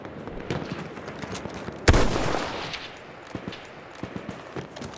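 Gunfire in the video game Battlefield 1: a loud, sharp close blast stands out, with scattered lighter distant shots and pops before and after it in a busy battle.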